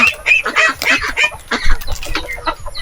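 Several hens on a farm cluck loudly and close by in quick, overlapping calls that carry on throughout.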